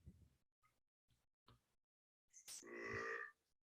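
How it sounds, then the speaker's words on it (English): A cartoon Great Dane from the 2002 live-action Scooby-Doo film gives a few short guttural belches, then one long, loud, drawn-out burp, heard alone and close. "The Scooby belching is hilarious to me"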